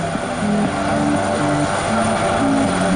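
Coast Guard helicopter hovering at an air show in Jesolo, its steady rotor and engine drone loud and continuous with a droning tonal hum throughout.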